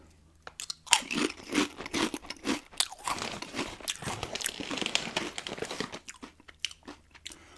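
Guinness-flavoured Irish potato chips crunch loudly and close, a long run of crisp bites and chewing with crinkling, with no talk over it.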